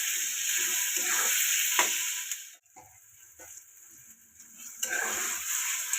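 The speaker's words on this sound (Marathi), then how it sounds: "आता आपण टमाटे टाकूया. टमाटे पण 1-2 मिनिटं चांगले परतूया तेलामध्ये." Onion and tomatoes sizzle in hot oil in a pan, a steady bright hiss that dips midway with a few soft stirring knocks before the frying picks back up, no talking.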